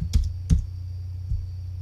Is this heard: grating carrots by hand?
no